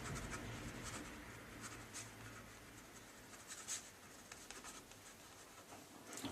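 A pen scratches steadily across a scrapbook page while journaling text is written, soft close strokes in quick irregular bursts over a faint background hiss, with no talking.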